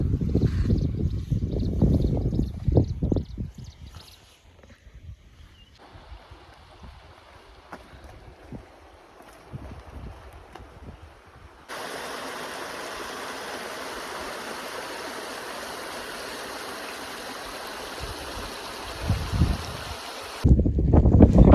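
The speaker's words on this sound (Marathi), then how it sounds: "एवढं डोंगर फिरलो आणि आम्हाला झरा भेटला छोटूसा." A small mountain stream near Pune, met while camping in the hills during rain, flows as a steady broad rush that grows louder in the second half. Brief voices are heard at the start and end.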